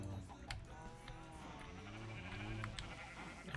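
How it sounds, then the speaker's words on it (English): Sheep bleating in a modded Minecraft survival game, several wavering game bleats layered over a steady background of other game sounds, with no talking. "Come here, you dumb sheep."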